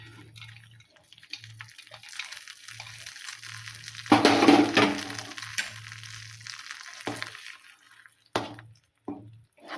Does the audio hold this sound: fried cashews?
yes